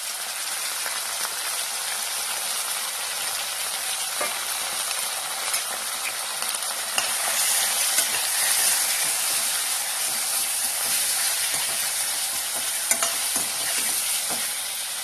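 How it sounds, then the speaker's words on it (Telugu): Liver fried in hot oil with cumin: a steady, bright sizzle and hiss from the pan that runs throughout, with occasional stirring scrapes and small pops and no talking. "లివర్ పండుని ఫ్రై చేసుకోవడానికి వేసుకుందాం."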